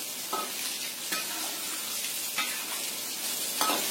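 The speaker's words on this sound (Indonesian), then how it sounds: "Setelah minyaknya panas, kita goreng tahu sampai kering ya, sampai matang." Cubes of tofu fry in hot oil over a medium flame, giving a steady, close broadband sizzle with a few brief stirring clicks and pops, no talk.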